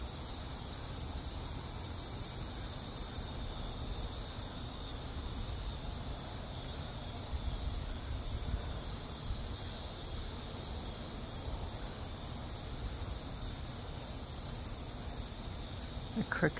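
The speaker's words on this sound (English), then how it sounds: "The crickets are loud." Dense, loud chorus of crickets chirping on an evening after a hot day with clouds before rain, a continuous high shrill drone that holds steady throughout with faint low background noise.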